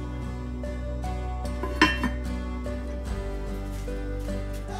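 A lid is set on a pot holding leg of lamb in sauce and water for a seven-hour braise at 120 degrees, a single close metallic clink with a short ring over a low steady kitchen hum.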